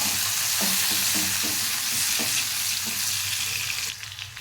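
Dried fish sizzles in hot oil in a pan with sliced onions, a continuous loud frying hiss joined by repeated scraping stirs, fading slightly near the end.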